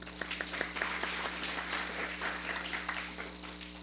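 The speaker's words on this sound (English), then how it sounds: "Round of applause." A small gathering claps in a round of applause at a Sunday feast, moderately quiet and somewhat distant, with scattered individual claps audible through a steady hum.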